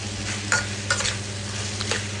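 A utensil scrapes and tosses noodles being stir-fried in a pan over a steady sizzle, with a few distinct stirring knocks.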